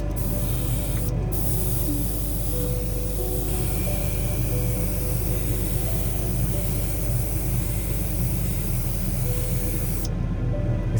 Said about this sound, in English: This Ford Mustang body has several areas where you won't fit with this kind of big spraying airbrush